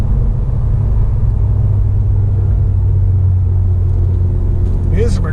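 A 2019 Honda Civic Type R's engine while driving, a steady low rumbling drone under cabin road noise, with someone briefly speaking near the end.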